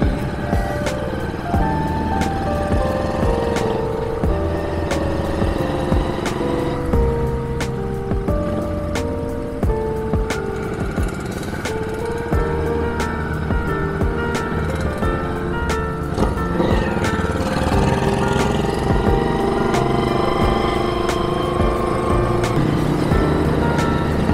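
Classic and restored moped-style motorcycles on a Sunday morning custom classic group ride in Palembang, engines droning and revving continuously with shifting pitches as bikes pass close by.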